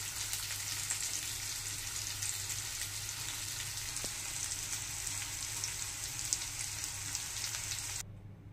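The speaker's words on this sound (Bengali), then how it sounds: "ওলগুলো দিয়ে দিয়েছি তেলের মধ্যে, ভেজে নেব।" Pieces of elephant foot yam frying in fish oil, a faint, even crackling sizzle like light rain that runs steadily, then drops off abruptly near the end.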